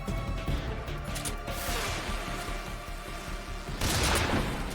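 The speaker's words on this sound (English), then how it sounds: "Grenade!" A grenade explodes in Metal Gear Solid 3: Snake Eater amid dense, loud game noise, with a sharp broadband burst near the end over a continuous crashing, gunfire-like din.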